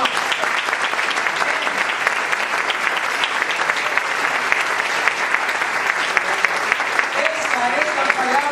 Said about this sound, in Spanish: Denle ese aplauso fuerte al Señor.